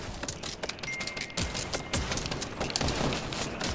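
Gunfire in the video game Fortnite, quick bursts of clicky shots and impacts rattling on and off through a few seconds, moderately loud amid busy game noise, with no one speaking.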